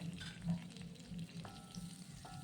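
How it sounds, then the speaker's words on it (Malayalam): Onions and green chillies sauté in oil in a pan, giving a quiet, low sizzle with soft stirring scrapes and a few faint clinks. "ഇനി മറ്റൊരു പാനിൽ എണ്ണയൊഴിച്ച് സവോളയും പച്ചമുളകും വഴറ്റിയെടുക്കാം"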